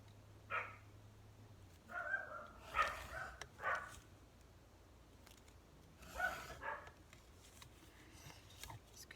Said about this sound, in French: Excusez-moi si vous entendez les chiens